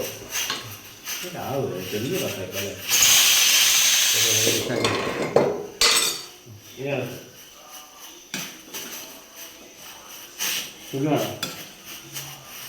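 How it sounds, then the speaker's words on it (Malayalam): Chicken stirred with meat masala in a cooking pot, a spoon scraping and clinking against metal in bursts with soft rubbing and faint sizzle, while people talk over the kitchen sounds. "അപ്പോൾ ചിക്കൻ ഇട്ട് നമ്മൾ അത് മിക്സ് ചെയ്ത് കുറച്ചും കൂടി വേഗണം."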